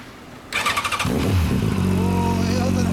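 A 2007 Yamaha FZ1N motorcycle fitted with an Over Racing exhaust fires up after a few starter turns, gives a quick sharp rev, then holds a loud, throaty idle close to the listener.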